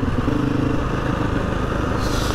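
A Husqvarna FE 350 light dirt motorcycle rides along, its engine giving a close, loud, steady throbbing rumble that continues through the whole clip without talk.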